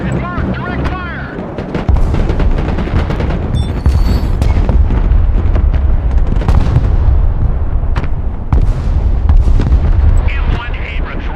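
Heavy armored units open direct fire in the war game Broken Arrow, a loud, continuous barrage of booming cannon and gunfire with repeated sharp blasts over a low rumble, mixed with brief unit voice lines.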